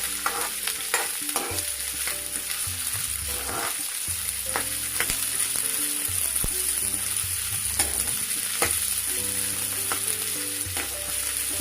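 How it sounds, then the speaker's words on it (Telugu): Cashews fry in a pan of hot oil, giving a steady close sizzle broken by frequent stirring clicks and scrapes, with no voices throughout. "ఇప్పుడు కాజు వేసుకుందాం. ఒక 1 మినిట్ వేగుతుందాం."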